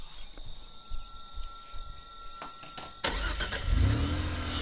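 A car engine in a PS4 horror game rumbles and revs up loudly in the second half, following quieter game ambience with a few soft knocks.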